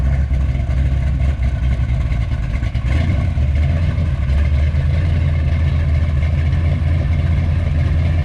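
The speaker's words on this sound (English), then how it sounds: "Car's not loud enough going down the front straight though" A 1967 Mustang road race car's engine drones loudly and steadily at close range on a race track, a deep continuous rumble with slight variations in revs.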